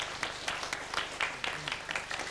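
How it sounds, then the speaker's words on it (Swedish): A short, faint patter of audience applause for a volunteer coming up at a card magic show, scattered claps over about two seconds. "En applåd för publiken."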